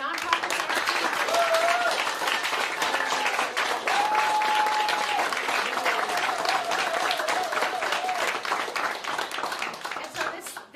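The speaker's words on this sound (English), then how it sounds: "one more time, a big round of applause for our nonprofits" An audience at a Knowbility OpenAIR kickoff event gives the nonprofits a sustained round of applause, with dense clapping and some whoops throughout and voices mixed in.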